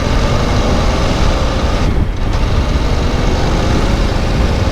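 An Aprilia Tuono Factory V4 naked motorcycle roars while being ridden, a loud, dense engine and wind noise filling the whole clip, with one brief dip in the middle.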